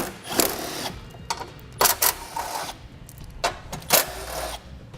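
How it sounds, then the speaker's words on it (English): A power tool whirs in several short bursts as seven 10mm screws are removed during a Derale plate-fin transmission cooler install, with small clicks and handling noises between the bursts. "Now we have 7 10mm screws that we need to remove."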